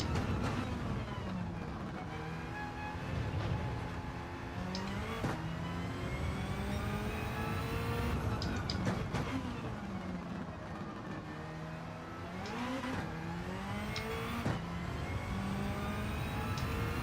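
Race car engine in a sim racing game on the Sardegna track, revving up and down through repeated gear shifts, a continuous mid-level whine with rising and falling pitch, no voices.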